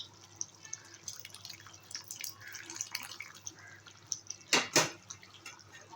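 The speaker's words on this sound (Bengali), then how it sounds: "আমি গরম জল দিয়ে দিলাম সামান্য আর একটু জল দেবো" Hot water poured into a pot of chicken and egg curry gives a quiet stream of small drips and splashes, with a brief louder splash toward the end of the six-second stretch.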